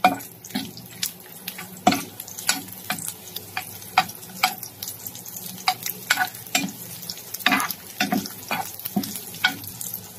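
Red onion frying in a pan gives a steady low sizzle broken by frequent sharp scraping and clacking hits from stirring, close and moderately loud, with no voices.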